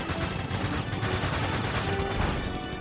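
Continuous rapid gunfire from aircraft guns while shooting at targets in the PS2 dogfight game Pacific Warriors II, a dense steady rattle of shots running without a break.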